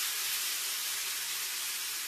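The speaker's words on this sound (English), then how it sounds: "Broccoli sizzling away." Steady, bright hiss of broccoli sizzling in hot frying oil, continuous and fairly close, with no voices.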